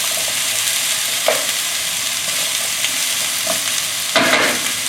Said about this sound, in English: Flip, stir, sit for a few seconds, and then flip.